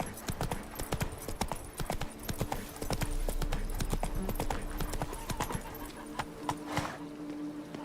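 Horse hooves clip-clop steadily in The Witcher 3 game, a brisk even rhythm of sharp hoof strikes over soft ambient background noise.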